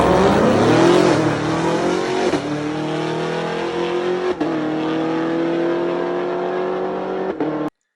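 A bone-stock Cadillac CTS-V with interior intact makes a quarter-mile drag run at the track, its engine roaring loudly as it climbs through rising revs with sharp gear-change dips, then cuts off abruptly.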